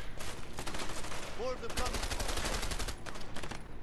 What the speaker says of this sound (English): Ah, stop shooting me